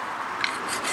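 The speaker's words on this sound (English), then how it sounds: "it allows you literally to scrape all of that rust" A hard file scrapes rust from a brake caliper bracket on a 2003 Toyota Corolla, a close, steady raspy rubbing that lasts under a second with no talk.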